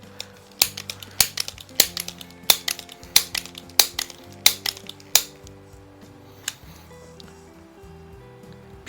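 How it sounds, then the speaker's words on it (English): Crosman 106 .22 caliber multi-pump pellet pistol being pumped, a rapid series of sharp clicking, clacking strokes in an even rhythm, loud and close, then quieter fiddling sounds with a low hum behind. "I'm going to shoot, I'll shoot 5 shots, and I'll pump it up at the maximum 8 pumps"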